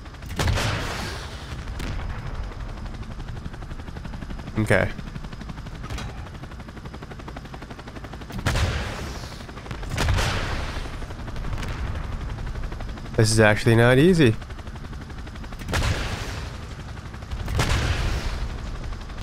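A chopper gunner killstreak in a first-person shooter video game fires repeatedly as bursts of gunfire, rockets and booms punch through a steady helicopter drone, while a player talks over the action.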